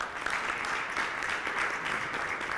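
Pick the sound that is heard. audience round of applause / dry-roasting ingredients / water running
audience round of applause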